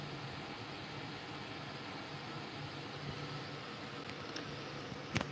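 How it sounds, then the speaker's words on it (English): An electric fan on its low setting hums steadily in a quiet room, a faint, even whir with a couple of soft clicks near the end. "that humming that sound is actually our fan"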